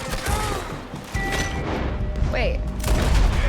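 Gunfire in Red Dead Redemption 2, several loud shots and a volley cracking amid game noise during a shootout, with someone briefly speaking over it.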